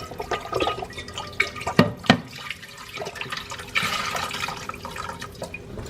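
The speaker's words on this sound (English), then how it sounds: "I'm going to take some chicken broth and pour it into" Chicken broth poured into a pot that held cooking cream of chicken, giving a close, uneven splashing and trickling of liquid with a few sharper splashes early on, and no talking.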